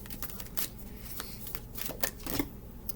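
Sacred Earth Oracle cards are shuffled by hand, a soft, quiet, continuous riffling and flicking close by, with no speech over it.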